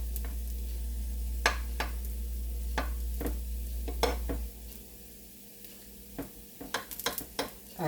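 Oil sizzles steadily under cabbage uppam frying in a pan, with scattered clicks and taps of a utensil against the pan throughout, growing busier toward the end.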